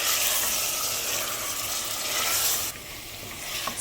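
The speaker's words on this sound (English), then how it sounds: "Stir-fry the mutton pieces in the oil." Mutton pieces stir-frying in oil in a pressure cooker, a steady loud sizzle with a softer crackling hiss as the meat is stirred.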